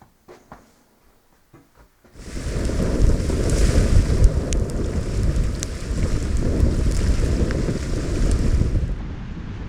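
Strong wind blows hard across open water while trout fishing, beginning after about two seconds of near quiet and then holding as a loud, steady roaring rush with no talk.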